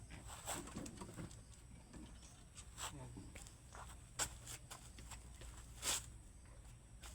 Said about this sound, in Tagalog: So ito yung mga kalapatids